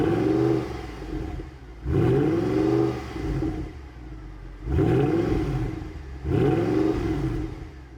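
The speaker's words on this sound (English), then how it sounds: "this thing had a stonking exhaust note" An AMG GT Black Series V8 exhaust barks through four repeated revs, each rising sharply from idle then dropping back, loud and close with a rasping, burbling note between blips.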